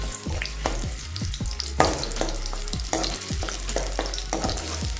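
Onions frying in hot oil for chicken sukka give a loud, continuous sizzle, broken by repeated scraping strokes and clanks of a spatula in the pan, close up and with no voices.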